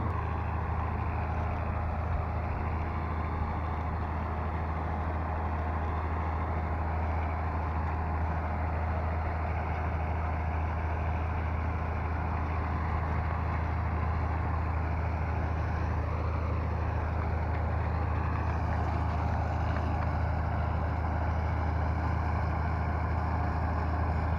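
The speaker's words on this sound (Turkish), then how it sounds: "Evet biçimize başladık Allah'ın izniyle. Şimdi arpa biçiyoruz." A steady, heavy engine drone runs continuously with a constant mechanical rumble from a combine harvester cutting barley nearby without pause.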